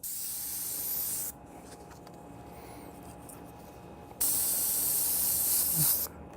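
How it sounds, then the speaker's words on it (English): Two bursts of steady, high airy hiss from an airbrush, separated by a quieter pause, the second burst longer than the first. "I'll spray a little bit of white and then I'll just spray air to dry it"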